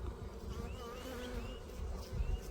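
Bees buzz steadily and close by, a wavering insect drone with slight pitch shifts, continuing throughout with a bit of handling noise.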